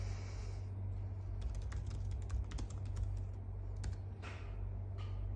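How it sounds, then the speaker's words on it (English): Rapid, irregular clicking of a computer keyboard being typed on at close range, over a low steady electrical hum, with brief pauses between bursts of keys. "And I could type"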